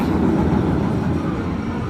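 A Vekoma Blue Streak roller coaster train at Six Flags Georgia, recently refurbished with newer trains, rolls along its track with a steady, loud rumbling roar throughout, no voices present.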